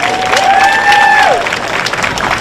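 An audience at a junior livestock show claps and cheers in a short burst of applause, with a whistle-like tone sliding over the crowd noise.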